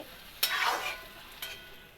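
Marinated lote fish stirred in a pan with a splash of dishwater-thin water: two sizzling, scraping stirs, the first longer and louder, the second brief, close by with no talking.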